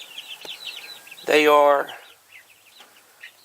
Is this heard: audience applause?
no